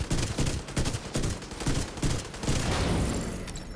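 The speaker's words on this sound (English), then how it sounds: "Stefan in the wall. Shoot Stefan." Dense, rapid gunfire from a video game firefight, loud and continuous bursts overlapping like a fusillade, with no talking.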